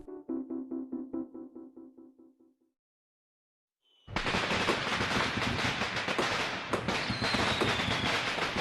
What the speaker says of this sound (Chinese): 鞭炮声中，